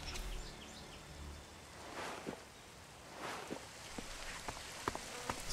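Rain falls in the video game ELEX, a soft continuous patter with scattered heavier drops and faint rustles, no voices.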